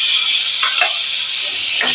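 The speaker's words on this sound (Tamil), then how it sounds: "தக்காளி வந்து இந்த அளவுக்கு லேசாக வதங்கினா போதும்" A small tomato softening lightly in a hot pan gives a steady, close sizzle with a few soft stirring scrapes, and no one speaks.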